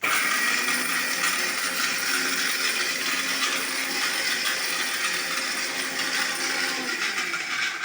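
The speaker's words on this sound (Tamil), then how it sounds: "mixie direct connection" A steady, loud whirring grind runs without pause from start to finish, the high-pitched motor drone of a kitchen mixer grinder grinding a masala for pakoda kurma.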